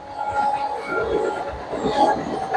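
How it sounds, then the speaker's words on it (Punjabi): A train rumbles past nearby through farm fields in rural Punjab, between Lohian Khas and Firozpur Cantt, with a steady, sustained horn tone sounding over the rolling noise throughout. "ਟ੍ਰੇਨ ਰੈਗੂਲਰ ਹਾਰਨ ਦੇ ਰਹੀ ਹੈ ਜੀ"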